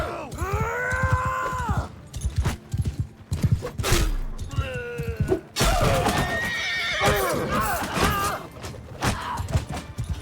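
Loud whinnies from a horse in Mount & Blade 2: Bannerlord ring out repeatedly over clip-clopping hooves and thuds of a battlefield, several neighs rising and falling close by.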